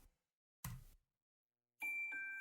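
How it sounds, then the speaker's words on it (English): Bright chime tones ring out in a Christmas pop song, a clear sustained ding after a brief burst of sound and a quiet gap. "So we start off with chimes, and then like a xylophone"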